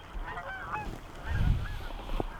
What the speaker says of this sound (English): Dude, geese are so sick.